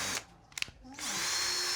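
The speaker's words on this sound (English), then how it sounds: "and then all you're going to do is just quickly go around and drill all of your holes" A power drill bores holes for a DIY invisible Christmas tree string-hanging project, giving a short whirring burst, a brief pause with small clicks, then a sustained high whine that runs steadily to the end.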